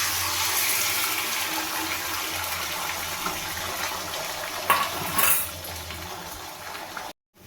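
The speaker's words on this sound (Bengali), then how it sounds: "এবার আমি যে ডিমটা ফেটিয়ে নিয়েছিলাম বাটির মধ্যে, সেটা আমি কড়াইয়ের মধ্যে দিয়ে দেবো।" Beaten egg is poured into hot oil in a wok for a home-style omelette, a steady close hiss and sizzle that continues for several seconds with a couple of brief louder spatters before stopping.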